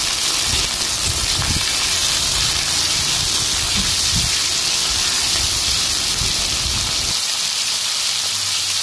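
Chopped onions sizzling in hot oil with cumin for a red mutton and potato curry, a steady loud hiss with faint crackle that runs continuously and drops away near the end.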